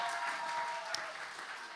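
Audience applause closes an oriental dance performance at a dance show in Michałowo, a steady soft wash of clapping heard from a distance with no voices over it.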